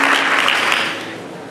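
A church congregation applauding, a loud dense burst of clapping that tapers off within a second and a half.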